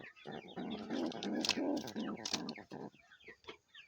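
A brooding pigeon sitting on its eggs gives a run of low, throaty coos close by, pulsing in short bursts before trailing off into quieter murmurs.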